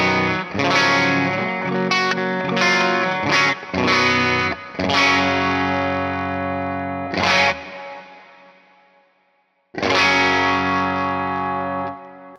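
Electric guitar run through a Neural DSP amp plugin on an artist preset, a bright, distorted tone with chorus-like shimmer, playing chords and short phrases with pauses between ringing notes.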